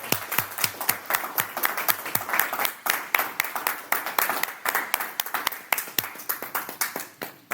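Steady crowd applause, many hands clapping together in a dense, lively patter that carries on throughout without pause.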